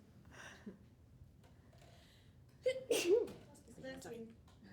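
A sudden sneeze bursts out amid a quiet conference hall with faint speech nearby, brief and fairly close, followed by soft murmuring.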